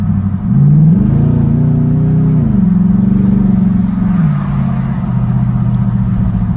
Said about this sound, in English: If I come back into manual, drop it down a gear, that V8 really does liven up a bit